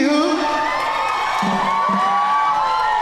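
A live audience at a Polynesian club show cheers and whoops, a steady crowd roar with a few higher shouts rising above it, moderately loud.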